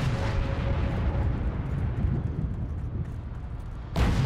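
Dense, rumbling booms and blasts roll continuously, with a sharper burst near the end; loud, heavy battle noise in the video game Heroes and Generals, with no clear pauses.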